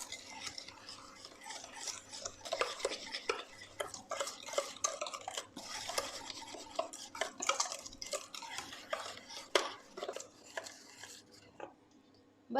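Chocolate cupcake batter being stirred by hand with a whisk or wooden spoon in a bowl, soft irregular scraping and tapping strokes, fairly quiet and close, with no talk.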